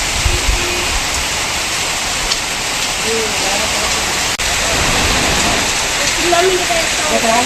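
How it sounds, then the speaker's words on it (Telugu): Heavy rain pours without pause, a dense loud hiss filling the whole stretch with no breaks, while a voice talks faintly underneath. "మరోవైపు ఏకధాటిగా వర్షం కురవడంతో ప్రజలు ఇళ్లకే పరిమితమయ్యారు"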